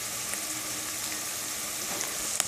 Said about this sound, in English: I'm going to saute these for a few minutes, probably about 5 to 6 minutes on a medium-high heat until they're translucent and tender